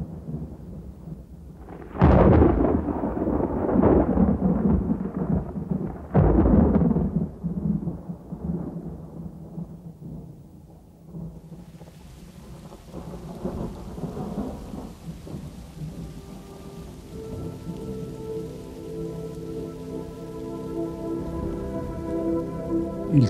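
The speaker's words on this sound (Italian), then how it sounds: "Il temporale d'estate, breve come la vita," A summer thunderstorm: loud, close thunder claps boom early and roll on, then steady rain patters on surfaces with a continuous hiss, heard alone without voices.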